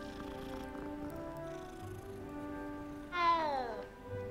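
A cat in the Hogwarts Legacy video game meows once, a clear drawn-out falling meow near the end, heard over soft game background music.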